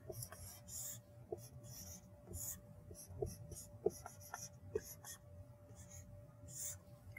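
Chalk or marker writing an equation on a board during a physics lecture, a run of faint scratchy strokes and soft taps in a quiet room, with only low background hum.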